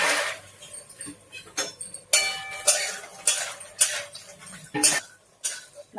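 Makhana (fox nuts) being lightly roasted and stirred in ghee for dink ladoo, with repeated close metallic scraping and clinking of a spoon against the pan in an uneven rhythm.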